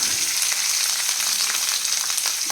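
Onion frying in a pan, giving a steady, close, bright sizzle and crackle that holds evenly throughout with no talk over it.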